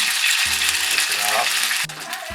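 Bruck pockets, Jamaican dumplings, frying in a pan give a steady, dense, close sizzle throughout, with faint clicking sounds underneath.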